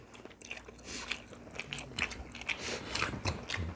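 Close, wet chewing and biting on soft tofu sushi, with dense mouth noises and crunchy clicks throughout a short stretch of mukbang eating, with no talking.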